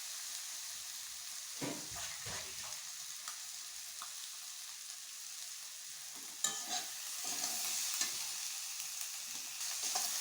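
Peas, eggs, chilli and cumin frying together in a pan, a faint continuous sizzle broken by soft stirring scrapes and spoon knocks, with no one speaking.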